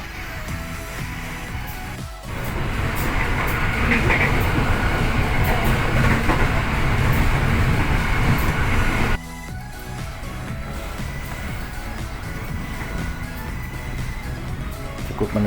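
A passenger train, the KA Serayu between Jakarta and Bandung, rumbles steadily from the inside, a loud continuous roar with faint clickety-clack that drops to a quieter hum partway through.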